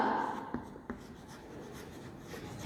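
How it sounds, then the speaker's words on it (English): Pen or pencil scratching on paper while writing down an answer in a Class IV maths lesson on multiples of ten, a steady close scraping run with a couple of sharp taps from the writing tip. "Let us write the answer"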